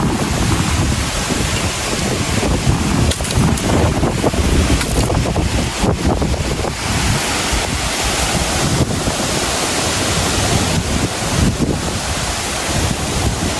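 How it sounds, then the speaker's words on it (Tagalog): Strong outdoor wind roars steadily and loudly into the microphone, a constant gusty buffeting rush with no pauses. "Ay, dito na ang hangin."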